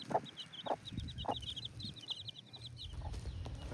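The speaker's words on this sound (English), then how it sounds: "there's some chicks that hatched out not too long ago, a few weeks ago." Hens cluck in short bursts while young chicks keep up a thin, high peeping on a farm, everything a little distant over steady outdoor background noise.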